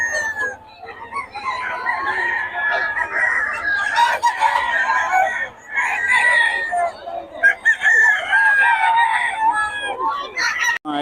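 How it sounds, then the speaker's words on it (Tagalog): A rooster crows again and again, loud and near, among chickens offered for sale at a Philippine market, with hens clucking and people talking faintly in the background. "Ito yung murang mga manok ni Boss Dada"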